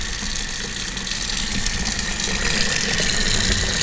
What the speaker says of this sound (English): So I actually hooked up a sink in here.